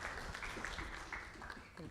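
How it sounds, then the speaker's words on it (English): Steady applause fills a school board meeting room, a dense wash of many hands clapping at a moderate, even level throughout the short stretch. "Let's give her a big round of applause."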